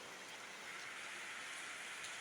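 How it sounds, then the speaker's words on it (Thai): Heavy rain pouring steadily in Luang Namtha, a dense, even hiss of water on surfaces with no voices, close and constant. "ฝนตกแรงเลย"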